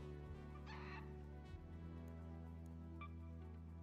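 A rooster clucks in a video game: a short burst of clucking stands out over a steady, low electronic game drone, with no talking.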